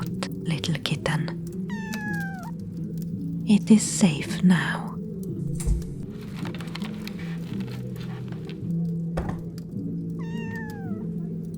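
A kitten in a Skyrim-themed ASMR scene lets out two short, rising-then-falling meows several seconds apart, over soft whispering, light taps and low background hum.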